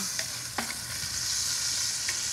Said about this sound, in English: I'm gonna give my bacon a little stir.